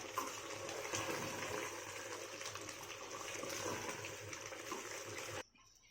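Masala frying in oil in a pan for a spicy country-chicken pepper curry, a steady bubbling sizzle that runs for several seconds and then cuts off abruptly near the end.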